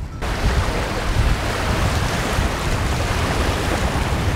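Sea waves and strong wind heard from a small boat at sea, with a loud, continuous rushing roar of surf and buffeting wind noise throughout and no talk.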